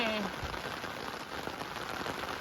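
Steady rain falls near a house, a dense, even hiss that runs unbroken from start to finish with no pauses.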